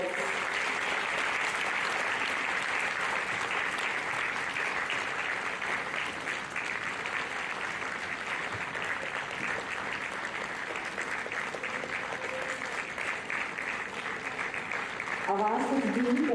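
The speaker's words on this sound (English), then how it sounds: "Every child deserves a thunderous applause." Crowd applause at a children's photo event, dense sustained clapping filling the whole stretch, moderately loud with a voice coming in near the end.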